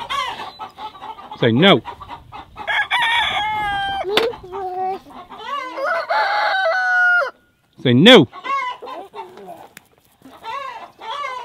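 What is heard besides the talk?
rooster crowing and chickens clucking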